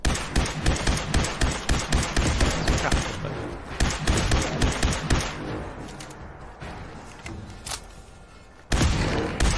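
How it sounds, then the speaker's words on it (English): A quick-firing weapon in Fallout 4 lets off a rapid rhythmic string of loud shots, steady at first and slowing toward the end, followed by a heavier burst. "This is a fairly quick firing weapon."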